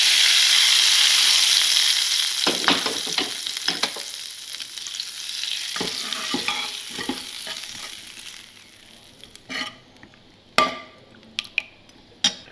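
A tempering is poured into a pot of moong dal and dill saaru, giving a loud, bright sizzle that fades over several seconds, followed by stirring and a few sharp clinks of a utensil against the pot.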